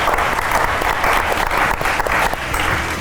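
Studio audience at a Georgian comedy game show breaks into dense, steady applause, loud and close, filling the whole stretch without pause.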